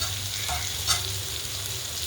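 Ridge gourd roasts in a pan, giving a close, steady hiss and sizzle of cooking with a faint stir or scrape partway through.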